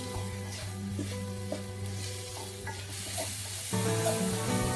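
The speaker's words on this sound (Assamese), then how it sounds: "দাইলখিনিও অলপ ভাজি লৈ অলপ ধনিয়া গুড়ি, অলপ জিৰা গুড়ি, হালধি গুড়ি, সোৱাদ অনুসৰি নিমখ দি আটাইখিনি ভালদৰে মিহলাই দিছোঁ" Lentils fry in a pan with ground coriander, cumin, turmeric and salt, giving a steady close sizzle with soft stirring scrapes and a louder burst of frying near the end.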